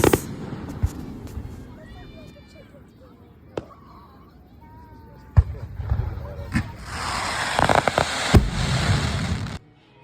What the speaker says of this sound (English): And who doesn't love fireworks?